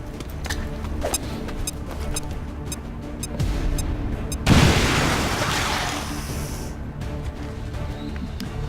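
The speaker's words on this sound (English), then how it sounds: "So we're going to use this grenade here. Destroy this cover." A grenade detonates in XCOM 2, one heavy booming blast midway with a rumbling tail, preceded by clicky interface ticks and low game ambience.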